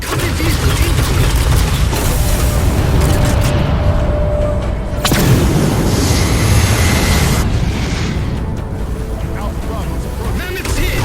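An explosion striking the Mammoth vehicle in Halo 4, a loud, sustained roaring blast with a sudden surge partway through, over dense battle noise.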